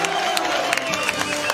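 A football stadium crowd in Indianapolis makes a dense, continuous roar with scattered cheers and claps, loud and enveloping throughout.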